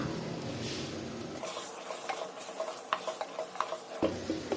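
Ground masala being stirred into a dish in a pan, with scraping spoon strokes and a soft sizzle that comes in irregular close bursts and then steadies.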